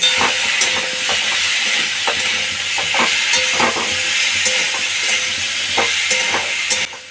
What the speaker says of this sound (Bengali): নুন আর হলুদ দেওয়ার পর আবার একটু নাড়াচাড়া করব